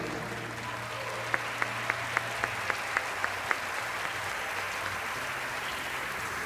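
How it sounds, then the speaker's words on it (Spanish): Applause from an audience at an event rolls on as a steady wash of claps, with a short run of sharp, evenly spaced taps standing out clearly midway through. "Un aplauso para ella, por favor."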